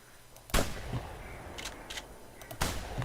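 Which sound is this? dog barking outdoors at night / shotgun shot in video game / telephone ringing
shotgun shot in video game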